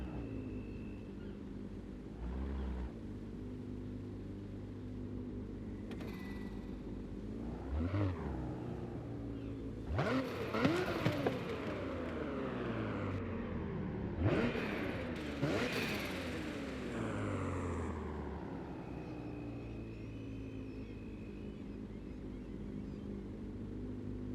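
A 2024 Nissan Z NISMO in Forza Horizon 5 idles with a low steady engine drone, interrupted by several brief revs that swell and fall back, fairly quiet overall.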